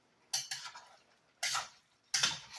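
A spoon is dragged through browned beef stew in a pot in three separate close strokes. Each stroke gives a scraping, clinking rasp, with quiet pauses between them and no talking.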